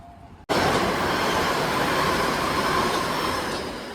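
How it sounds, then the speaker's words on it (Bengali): A metro train in Kolkata rushes past close by, its sudden loud roar cutting in after a quiet moment and then holding as a steady, dense rumble that fades slightly at the end, with no talking. "চলে গেল মেট্রো ট্রেন"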